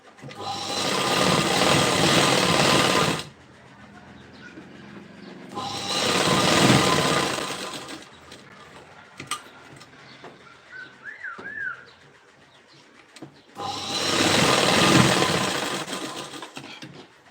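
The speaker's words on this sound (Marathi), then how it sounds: "संपूर्ण आपल्याला कडेकडेने या पद्धतीने टिपा वगैरे मारून घ्यायच्या आहेत" A domestic sewing machine stitches along blouse edges in three separate bursts of loud, close whirring, with quieter gaps between where faint handling noises and a brief bird chirp are heard.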